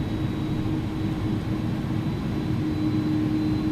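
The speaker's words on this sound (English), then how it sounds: "we'll just go ahead and fire up our EPU" The auxiliary power unit of an iniBuilds A300-600F airliner runs in X-Plane 11, giving a steady, loud mechanical hum with a constant low drone and a thin high whine that hold without change.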